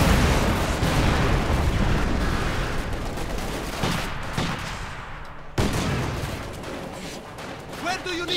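Light machine guns fire in Company of Heroes 2, dense rattling bursts mixed with explosions and battle noise, loud throughout and briefly cut off before resuming, with a voice commentating over the action.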